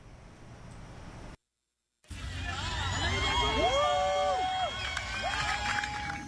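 A crowd cheers and whoops beside the Seine in Paris as the mayor steps into the river, a loud continuous roar with shrill shouts rising after a short silent gap.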